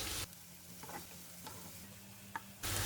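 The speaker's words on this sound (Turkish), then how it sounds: "Onları da kokusu çıkana kadar güzelce kavuracağız." Quiet, steady sizzling of peppers frying in a pan for menemen, with a few soft clinks of a utensil stirring, louder hiss at the start and end.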